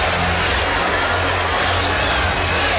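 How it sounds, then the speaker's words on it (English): A packed arena crowd at the 2001 NBA All-Star Game roars steadily with dense, continuous cheering and hubbub in a tied game, loud and close throughout. "And this crowd is now very much into it."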